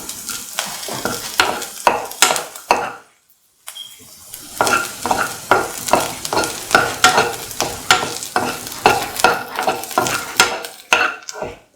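Onions and shallots frying in a pan with a steady sizzle, stirred with a utensil that scrapes and taps the pan in a quick regular rhythm, close and fairly loud, with one short pause partway through.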